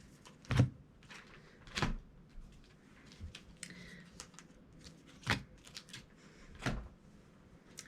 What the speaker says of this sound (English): we will go ahead and grab those and shuffle those bad boys in.